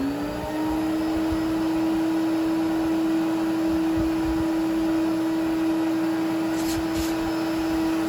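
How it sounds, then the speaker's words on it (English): An Electrolux 2100 series canister vacuum runs on its own without the power nozzle, a steady loud motor whine and airflow rush that holds an even pitch from start to finish. "I'm going to start with vacuum alone."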